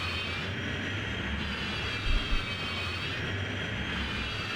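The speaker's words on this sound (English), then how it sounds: "Engines are on. Let me just do a quick throttle up." Bush plane engines run up in Scotland, a steady, loud droning hum with a faint rhythmic throb and a brief low bump partway through, no voices present.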